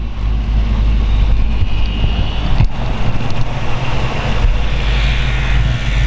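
A 1932 Ford Dearborn Deuce high-boy convertible hot rod engine idling, a steady low rumble with wind noise across the microphone, loud and continuous without speech.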